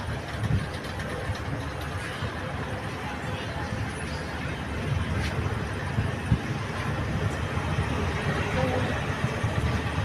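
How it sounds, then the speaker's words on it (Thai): A Thai railway diesel railcar engine revving loudly at Thung Wang station, a dense continuous drone and rumble filling the platform throughout, with faint voices mixed in. "เสียงเครื่องแคทนี่ลั่นสถานีนะที่วัง"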